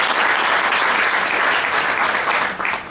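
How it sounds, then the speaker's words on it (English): Sustained applause from a small business workshop audience at a chamber of commerce evening, dense and steady clapping filling the room for about three seconds before easing off at the end. "Can we give her a round of applause?"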